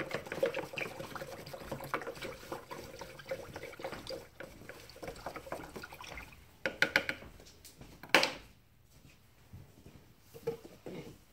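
Liquid pottery glaze is poured over ceramic ware, giving uneven splashing and trickling in several bursts, with a few sharper splats and quieter dribbling between pours.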